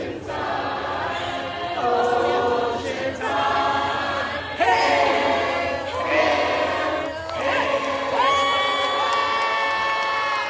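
A crowd fills the stadium stands at the opening of the renovated Simcox Field at Oceanside High School, a loud continuous wash of cheering and shouting voices with children's yells rising in waves throughout.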